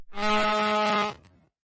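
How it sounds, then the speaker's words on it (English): A single blast on a horn, a buzzy harmonic tone lasting about a second before cutting off sharply. "Get ready to blow the horn."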